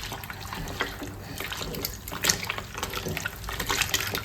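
Wheat dough being kneaded by hand in a bowl of water to wash out the gluten, giving soft continuous sloshing and squelching with small splashes, close and fairly quiet.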